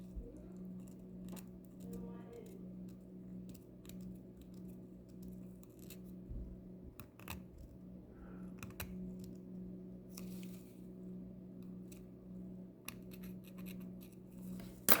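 Quiet, intermittent scraping and clicking of a hard tool against a metal tooth grill near the gumline, short scratches spread over a steady low hum.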